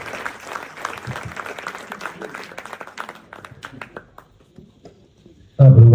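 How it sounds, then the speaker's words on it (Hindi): Theater audience applause at a drama festival performance, a dense patter of clapping that thins out and fades toward the end before a sudden loud burst of another sound. "आपकी भरपूर तालियां"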